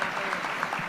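An audience claps at an annual workshop session in a brief, steady burst of applause.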